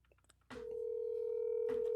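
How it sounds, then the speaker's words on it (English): Telephone ringback on speakerphone: a steady, loud tone begins after a brief burst of dialing-like noise and holds unbroken to the end, with faint murmur before it starts. "Can you hear the phone ringing?"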